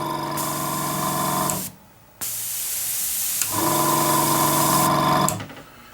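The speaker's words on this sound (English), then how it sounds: "you'll hear that compressor just cutting in and out" A Sparmax TC-2000 airbrush compressor hums and hisses loudly, cuts out for half a second, then kicks back in and runs steadily before stopping again.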